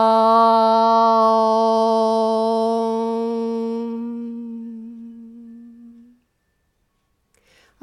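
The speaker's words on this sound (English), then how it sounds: "I like to chant Om 3 times before I meditate." A single voice chants a long, sustained Om before meditation, steady and resonant at first and then slowly fading into silence, close and alone.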